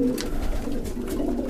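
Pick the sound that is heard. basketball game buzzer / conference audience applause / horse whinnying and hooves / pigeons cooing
pigeons cooing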